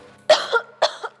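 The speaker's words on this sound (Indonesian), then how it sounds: "Ganggu orang lagi batuk aja ya." Two close coughs, a short rough burst followed by a second one a moment later, nearby and fairly loud with silence around them.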